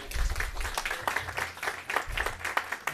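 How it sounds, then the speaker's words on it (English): An audience at a hospital unit opening celebration applauds, the scattered hand claps swelling and fading in uneven bursts at a moderate distance, with no speech over them. "And while we're applauding, let's applaud again for this beautiful new unit here at Provident Hospital."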